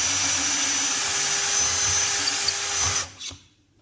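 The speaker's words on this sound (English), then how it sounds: "We drill down until we hit the collar," A drill bores pocket holes through a Harbor Freight pocket hole jig, a loud, steady high whine for about three seconds that winds down abruptly as the bit stops at the collar.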